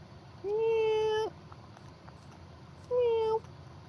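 Two drawn-out meows, each under a second, come with a pause between them against quiet background hiss; they may be a real cat or a person imitating one.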